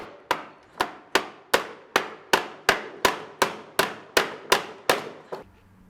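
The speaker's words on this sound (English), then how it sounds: "I'm going to insert these right in the pre-drilled holes and just hammer them right in place." A hammer drives small tacks into pre-drilled holes while bronze weatherstripping is installed on a window: about a dozen sharp, evenly spaced taps at a quick steady rhythm, close and alone.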